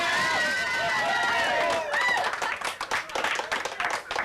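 Crowd cheering and applauding for Robert during the NBA Finals in Detroit, with a rushing roar of claps and shouts building to dense, uneven applause toward the end.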